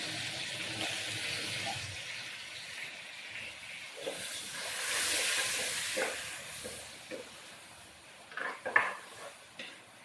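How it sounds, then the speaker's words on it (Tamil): Eggplant sautéing in a pan for a Tamil Nadu fish curry gives a soft, steady sizzle with scraping stirs and a few sharper utensil clinks near the end, with no talking. "இந்த கத்திரிக்காய் வந்து போட்டு கொஞ்சம் வதக்க வேண்டியலாம்"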